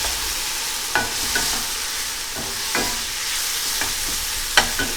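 Ponzu sauce sizzling and steaming in a hot pan, a steady frying hiss with a few sharp crackles and clinks as it is stirred, close and moderately loud.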